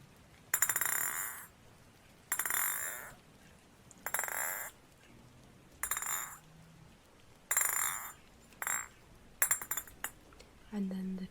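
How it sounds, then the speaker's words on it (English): Water globes are tapped in short bursts of bright glassy clinks and rattles, about eight clusters separated by quiet pauses, close to the microphone, with a faint low voice murmuring between taps. "So here's some water globes tapping."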